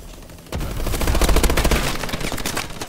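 Heavy sustained turret gunfire in the video game Call of Duty Advanced Warfare, bursting in loud and close after a quiet half second and continuing as a dense rapid rattle.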